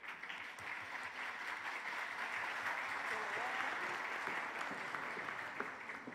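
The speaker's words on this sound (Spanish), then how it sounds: "Recibamos con un fuerte aplauso a Diana." Steady applause from an audience at a Spanish-language education panel event, moderately loud and continuous for several seconds, with a faint murmur of voices underneath.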